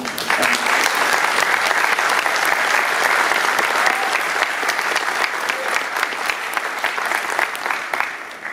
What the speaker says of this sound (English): I'd really like to give a round of applause for Tim